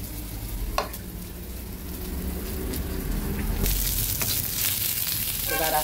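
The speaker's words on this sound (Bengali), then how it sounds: "পেঁয়াজটা ভাজা হবে, এদিকে মাছের মাথাটাও সুন্দর করে ভেজে নিয়েছি।" Onions sizzling in hot oil in a pan alongside a fried fish head, a continuous close crackling hiss that swells louder partway through, with a few faint clinks and no voices.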